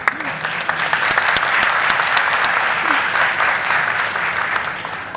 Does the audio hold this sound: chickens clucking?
no